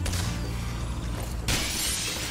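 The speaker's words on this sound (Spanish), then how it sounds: "Ahora me voy a centrar en cargarme los cristales" Crystals smashed in the Spyro 3 Reignited Trilogy video game, a sudden bright shattering crash about halfway through after a steady game soundscape, with a chiming tone ringing on afterward.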